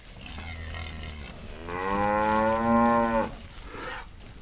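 Cattle on a Texas farm in winter, one loud drawn-out moo rising then falling near the middle, with quieter farm ambience before and after.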